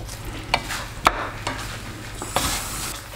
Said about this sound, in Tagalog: Tapos halo lang ulit, guys.